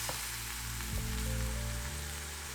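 Rice wine hits a hot pan of vegan Korean tofu stew (sundubu-jjigae), a steady close sizzle and frying crackle running throughout with low bubbling underneath, no voices.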